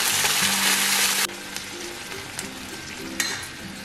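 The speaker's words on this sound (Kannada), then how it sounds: "ಈಗ ಇದಕ್ಕೇ ತೊಳೆದು ನೆನೆಸಿರುವಂತಹ ತೊಗರಿಬೇಳೆ ಹಾಕೋತಾ ಇದ್ದೀನಿ." Washed, soaked toor dal tipped into a hot tempering for simple dal, giving a loud burst of sizzling that drops to a softer crackle of frying, with a few light stirring taps. No one speaks.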